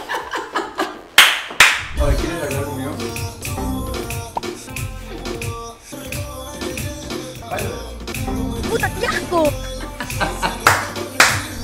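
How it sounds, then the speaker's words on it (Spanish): Audience applause at a stand-up comedy show, loud bursts of clapping rising and falling over about twelve seconds, mixed with scattered laughter and chatter from the crowd. "pero aplaudan."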